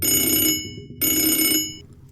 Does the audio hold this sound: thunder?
no